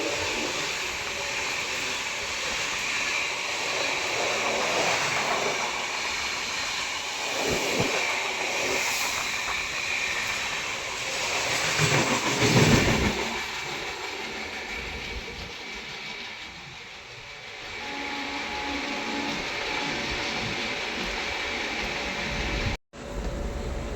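The Chitrakoot Special train on the Prayagraj–Delhi route runs along the rails with a continuous rumbling, hissing roar that swells midway, eases off, then cuts out briefly near the end.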